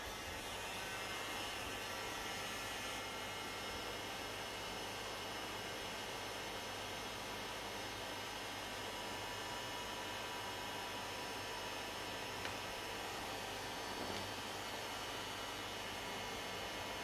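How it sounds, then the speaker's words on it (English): A heat gun blows a steady, loud broadband hiss while desoldering a damaged micro-USB connector from a Samsung SM-1111 board, running without a break from start to finish with no speech over it. "Now we'll use the heat gun"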